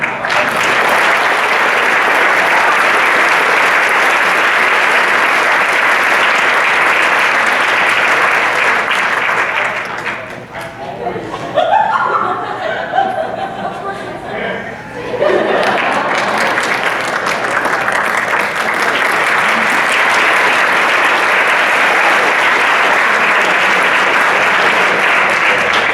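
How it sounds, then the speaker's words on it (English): A high school band's pops concert audience gives a long, loud round of applause that fills the room, breaks briefly while someone speaks, then swells back into dense clapping. "So would you give a big round of applause?"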